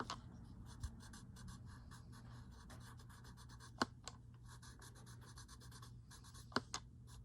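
A paper stump tortillon rubs and blends a Zentangle drawing on paper, a soft, steady, close scratching with a few sharper taps, quiet and without talk.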